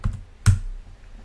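Two quick clicks of typing on a computer keyboard, entering a name, land close and clear about half a second apart with quiet between them.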